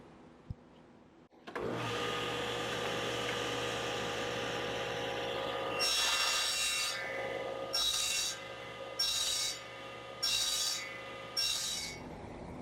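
A table saw with a miter gauge and its fence set at one inch nibbles away excess wood for a wine rack end table. After a steady motor hum, four or five short, rasping cutting passes come in a regular rhythm.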